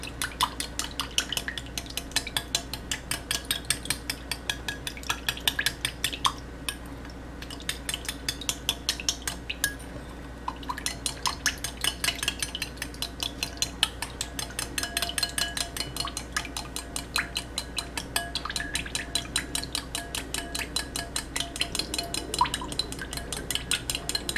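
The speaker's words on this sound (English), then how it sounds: "And next we just whisk that." A homemade hand sanitizer mixture whisked briskly in a bowl, a steady rapid clatter of whisk against the sides running throughout, close but fairly quiet, with no voices.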